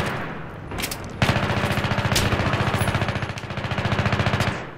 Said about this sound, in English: Hip fire for days.